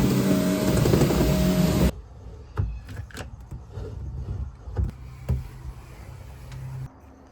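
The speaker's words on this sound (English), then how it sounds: "Just giving my hot tub a vacuum." A vacuum cleaner runs inside a fire-heated wooden hot tub built from 2x4s and tongue-and-groove boards, a loud steady whoosh that cuts off abruptly after about two seconds, followed by quiet scattered knocks and clatter.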